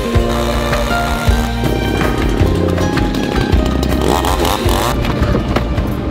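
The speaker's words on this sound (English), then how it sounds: "We're trying to try to find someone with a chainsaw so we can get there." Chainsaw cutting through a fallen tree blocking a dirt road, a loud, steady motor whine with rising and falling revs throughout, close by and alone with no talk.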